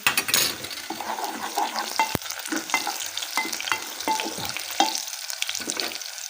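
Fenugreek and cumin seeds sizzle steadily in hot oil in a pan, with a continuous close frying hiss broken by occasional stirring scrapes and light utensil clinks.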